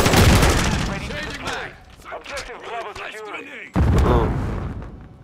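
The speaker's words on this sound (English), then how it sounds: "he shot me three times with a shotgun there from range" Shotgun fire in the video game Call of Duty Modern Warfare 2: loud, booming blasts open and close the stretch, with someone talking in between.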